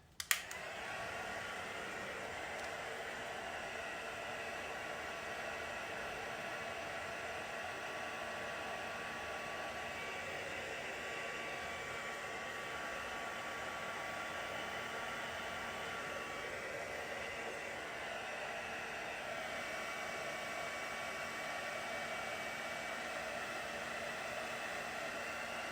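A heat tool blows steadily for about 25 seconds to heat set ink on a watercolour stamped card, a continuous airy whoosh with no talking.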